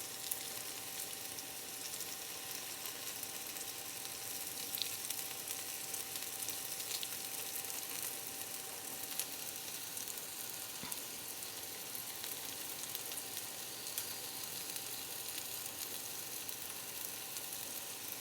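Roasted butternut squash sizzles in a pan with onions, a steady, even crackling hiss that carries on for the whole stretch with no talking.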